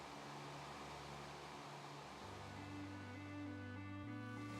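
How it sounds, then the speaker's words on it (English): A continuous low mechanical whir of air conditioning compressors hums steadily with faint tonal layers, distant and quiet, with no talking. "you'll hear the whir of the compressors"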